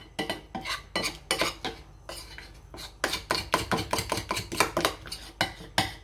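Thick yogurt doughnut batter is mixed in a bowl with a utensil. Quick, rhythmic scraping and clinking strokes repeat in close bursts, with short pauses between them and no voices.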